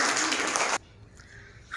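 Young children in a preparatory classroom burst into lively clapping for a classmate. The dense applause stops abruptly and leaves a quiet room.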